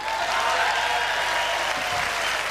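Studio audience at a televised Australian football show keeps up steady, dense applause, loud and even throughout, with a faint low hum beneath it.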